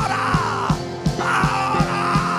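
A church congregation yells and roars together during a loud Pentecostal-style service, with a rhythmic beat of sharp bursts repeating roughly every third of a second under the sustained shouting.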